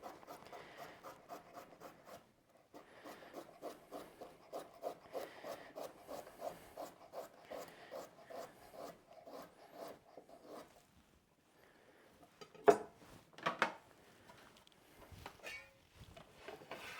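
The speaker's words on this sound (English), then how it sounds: "I have one more carrot that I'm just going to slice up into little medallions for the stir fry." A knife slices a carrot into medallions on a cutting board, giving a quick even run of close, crisp chops that pauses, then returns as a few sharper cuts, with no talking.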